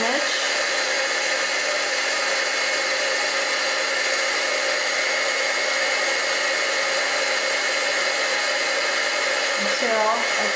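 A heat gun blows a constant, loud whirring stream of hot air over embossing powder on an image, running steadily throughout, with a small shift in tone right at the end.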